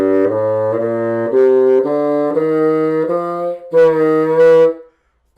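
A bassoon plays a short sequence of sustained notes, including a sagging, flat E, heard up close and loud with no talking.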